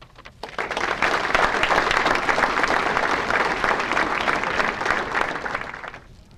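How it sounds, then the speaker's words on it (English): Audience applause fills a banquet hall at a sports hall of fame dinner, a dense, steady roar of many hands clapping that swells quickly, holds loud for several seconds, then tapers off. "Now, you can clap, no doubt."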